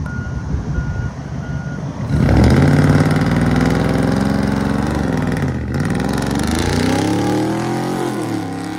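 A 2022 Ram with a 6.4L HEMI V8 and true dual straight pipe exhaust starts up with a loud roar, then settles into a deep, rumbling idle with revs that rise and fall, close and alone.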